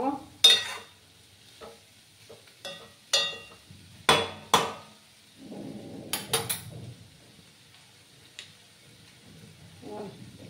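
Raw papaya cooking into a sweet in a pan is stirred with a spatula, giving scattered sharp scrapes and knocks against the metal and a soft sizzle between the strokes.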